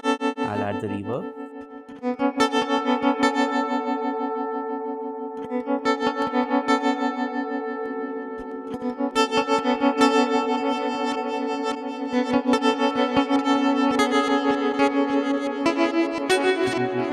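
Distorted electric guitar chords ring through a smart guitar's reverb and modulation, with a long wash of echo trailing each strum. Steady, loud playing continues alone with no talking.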